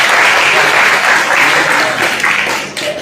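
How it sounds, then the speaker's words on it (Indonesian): Applause fills a school character-building assembly, a steady dense wash of clapping that carries on loudly for about three seconds before tapering slightly near the end. "tepuk tangan dong"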